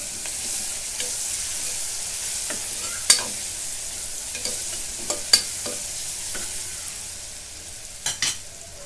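Onion sautéing with ginger garlic paste in a pan gives a constant steady sizzle, with a few sharp scrapes and taps of a spoon against the pan scattered through.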